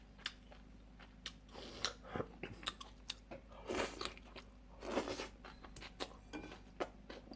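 Close-up chewing and biting of gomtang and ramen, with irregular crunchy bites and soft mouth noises spread across several seconds and no talk.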